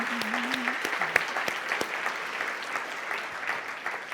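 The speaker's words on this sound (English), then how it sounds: "Please give yourselves an applause." Audience applause rings out across a convention hall for an environmental group, a steady wash of many hands clapping at even loudness throughout, with a brief tone near the start.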